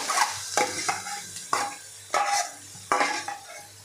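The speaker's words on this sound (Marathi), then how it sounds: "काजू, बदाम, मनुका आपण सगळं काढून घेतलेलं आहे आणि त्याच तुपामध्ये आपल्याला गाजर घालून घ्यायचं आहे।" Grated carrots fry in ghee over a low flame for carrot halwa, a gentle sizzle punctuated by about five distinct spoon scrapes and clinks against the pan, close and unhurried.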